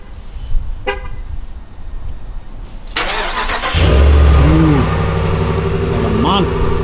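A truck started by remote, with a short horn toot followed by the engine cranking and catching into a loud, rough idle close by; a faint voice is heard at the start.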